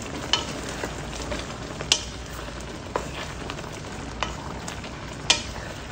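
Ripe saba bananas being stirred in a cooking pot, with a steady soft simmer under sharp scraping clinks of the spoon at irregular intervals, close by and alone.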